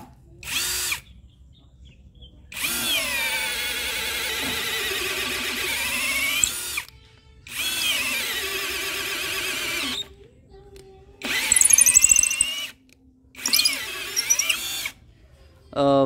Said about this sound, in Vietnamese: Tốc cao thì anh em phải khoan nhấp nhả thì nó mới ra được.